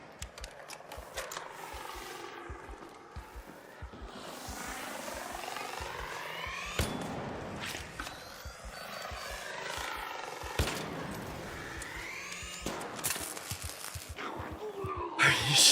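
Hornet drone from the video game Arc Raiders hovering with a steady whirring, rotor-like buzz that swells and fades, punctuated by repeated sharp clicks and impacts, with a voice talking over it.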